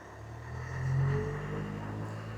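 A Land Rover engine with a P0046 fault code gives a single rev that swells and then settles back to a steady low idle rumble, close by, with no talking.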